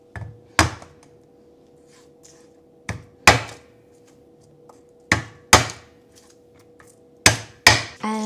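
Tofu for Sichuan mapo tofu is cut on a board, giving sharp knife-on-wood thunks in pairs spaced a couple of seconds apart, loud and close, with no talking.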